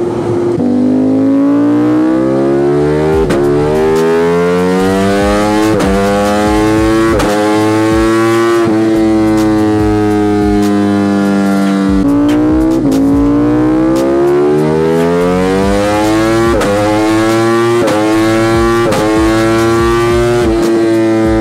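A Ducati V4S motorcycle is revved hard on a dyno, the engine note climbing and dropping through repeated loud, close pulls with rising and falling pitch for over twenty seconds.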